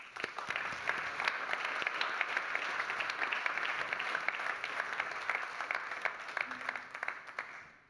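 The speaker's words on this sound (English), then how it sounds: "So please give a round of applause to them." A conference audience at an AI summit applauds steadily, a dense, even wash of many hands clapping that holds for several seconds before tapering off at the end.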